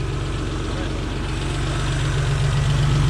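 A car engine idling after a hard turbo run, with a steady, close low rumble and a faint knocking pulse throughout, growing slightly louder toward the end.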